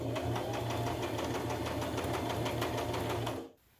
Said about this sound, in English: So I'm going to take this to my machine and sew the elastics on both.